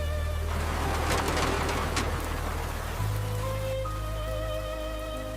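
Rain falls steadily as a continuous dense patter on surfaces, with steady tones and hum running underneath, heard alone without speech.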